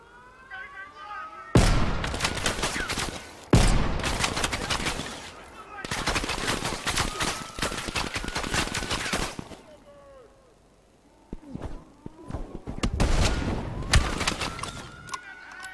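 Heavy automatic gunfire in Black Ops Cold War, long loud sustained bursts broken by short pauses, with a quieter lull before a final volley; a voice speaks briefly between the shots.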